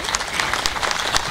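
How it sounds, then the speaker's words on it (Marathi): Audience at a Seva Ratna award ceremony applauds: dense, steady, loud clapping from a large crowd fills the whole moment without a break. "जोरदार टाळ्या झाल्या पाहिजे."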